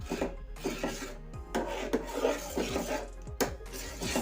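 A spoon scrapes and rubs around a metal pan while milk powder is stirred into milk for homemade mawa, a repeated rasping stir with occasional clinks, close and moderately loud.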